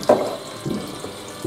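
Tap water runs into a jar while a celery root is rinsed and given fresh water, a soft, steady splashing close by with a brief louder gush near the start.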